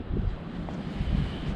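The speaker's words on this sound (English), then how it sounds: "It's very windy out today" Strong outdoor wind buffeting the microphone at a salvage yard, a constant low rumbling roar with gusty swells and nothing else clearly audible.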